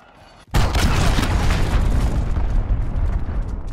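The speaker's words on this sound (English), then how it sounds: "Allied cruise missile launched." A cruise missile strike in Call of Duty Modern Warfare team deathmatch lands as a sudden, loud, close explosion that cuts through quiet and rolls on into a long, rumbling blast roar.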